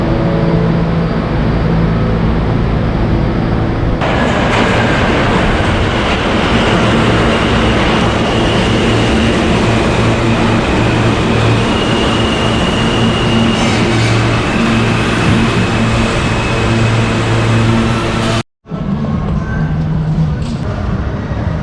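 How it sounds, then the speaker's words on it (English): The Cyclone wooden roller coaster at Luna Park on Coney Island in Brooklyn, New York, rumbles and clatters loudly and continuously as the cars run along the track, ending in a brief cutoff. "This is the iconic Cyclone roller coaster here at Luna Park out at Coney Island in Brooklyn, New York."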